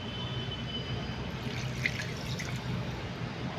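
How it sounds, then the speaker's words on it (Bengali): Water poured from a vessel into a pot of vegetable curry cooking over a homemade clay-tub stove, a steady splashing, bubbling pour heard close and alone. "এবার একটু জল দিয়ে দিই"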